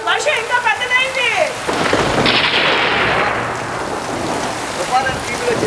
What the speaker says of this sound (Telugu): చూడు చూడు, వర్షం ఇంకా పెద్దదైంది.